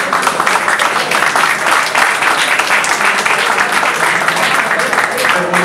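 A crowd at a gaming party event breaks into loud, sustained applause, with dense overlapping clapping that fills the whole stretch at an even level.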